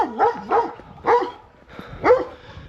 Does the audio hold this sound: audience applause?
no